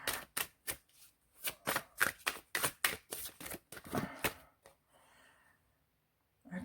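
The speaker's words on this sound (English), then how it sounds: "Sorry, I was shuffling the wrong cards." Tarot cards shuffled by hand in a quick run of crisp riffling bursts, about a dozen close, loud strokes in an uneven rhythm, then trailing off into a soft rustle and near silence.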